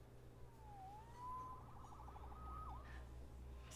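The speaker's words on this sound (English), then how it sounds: "Saved by the siren." Police siren in the video game Marvel's Spider-Man, a faint wailing tone sweeping up and down over a low steady hum, with a brief warbling section, heard alone without speech.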